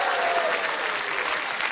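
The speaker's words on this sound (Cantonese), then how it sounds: "俾啲掌聲佢哋，辛苦晒。" Audience applause at a stage singing contest, a dense, steady wash of clapping that stays loud and unbroken throughout, with no voices standing out.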